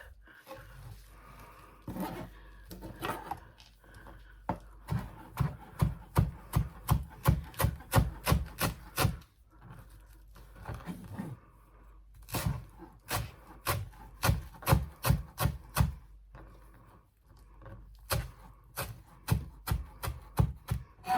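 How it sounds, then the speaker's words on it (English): A knife roughly chops fresh mint on a wooden board in quick rhythmic bursts of sharp close taps, pausing briefly between runs. "I'm just rough chopping these."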